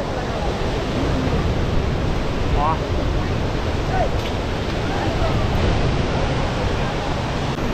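Mallali Falls waterfall roaring as a steady, loud, broadband wash of falling water that fills the whole stretch without a break, with faint voices in the background.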